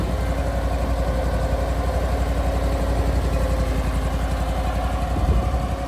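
A Honda GX 630 engine runs on a firewood processor, a steady loud idling drone with a low rhythmic pulse that holds even throughout, close by and with no talking.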